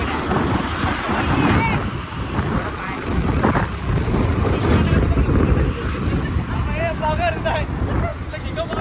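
Boat ride on the sea off Goa, with a steady broad rush of engine, water and wind buffeting the microphone throughout, loud and close, while people talk over it.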